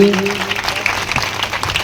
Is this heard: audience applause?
yes